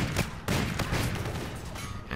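Stallion .44 revolver fire in a video game, several heavy booming shots in quick succession, loud and close, with the echo of each carrying into the next.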